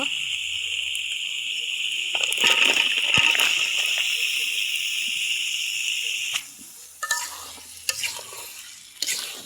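Bottle gourd pieces go into a pot of spiced fish, with a steady sizzle underneath and scraping stirs and clatters, quieter toward the end.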